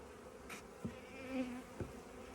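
Honeybees from a weak hive buzz faintly and steadily, with a couple of brief louder passes as single bees fly close.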